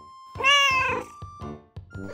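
A cat placed in a water-filled underwater treadmill tank meows loudly, one long drawn-out cry followed by several shorter, fainter meows, close and alone.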